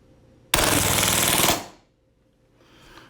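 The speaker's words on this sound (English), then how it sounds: "we're going to move over to the chronograph and see if we can get how many rounds per second this will fire on full auto" An Action Army AAP01 Assassin Spec airsoft pistol fires on full auto in one dense burst of about a second, a rapid buzzing stream of shots that then cuts off into near silence.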